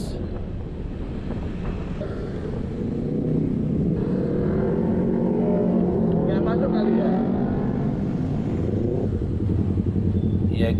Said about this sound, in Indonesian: Anggi pakai knalpot R9 Ninjanya, jadi lumayan bising, lumayan kencang suaranya